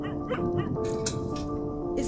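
A dog in the video game Where The Heart Leads whimpers and yips in short high whines over a steady musical drone, with a voice talking across it.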